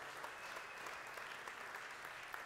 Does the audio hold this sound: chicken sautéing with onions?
no